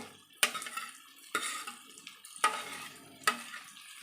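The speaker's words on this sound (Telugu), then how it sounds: "ఇప్పుడు మనము దోసకాయ ముక్కలు కట్ చేసి పెట్టిన దోసకాయ ముక్కలు వేసేయాలి" Cucumber pieces are stirred into a dried fish curry in a pan, with four distinct scraping clinks of a utensil against the metal spaced about a second apart, close and fairly quiet.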